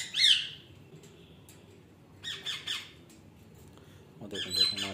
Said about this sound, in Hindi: ग्रे पैरेट को दोस्तों अब दोबारा दे रहे हैं